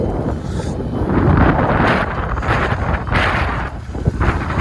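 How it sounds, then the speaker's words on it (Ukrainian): Strong wind buffeting the microphone in rough, loud gusts, a continuous low roar that swells and eases. "вітер трохи дме"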